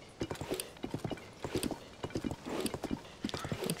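Horse hooves clip-clopping on a trail in Zelda: Tears of the Kingdom, a steady galloping rhythm of close, crisp hoofbeats in repeated bursts, with a brief whinny and no talk.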